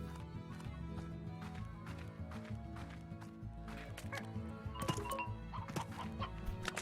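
A hen clucking in the video game Slime Rancher, with faint, repeated clucks and soft footfall-like taps over a quiet looping game music bed, a few sharper bursts near the end.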